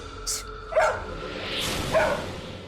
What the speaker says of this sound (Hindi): इतना क्यों भौंक रहे हो?